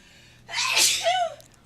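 A single sharp human sneeze, close and loud, with a brief intake before the burst. It stands alone over a quiet room.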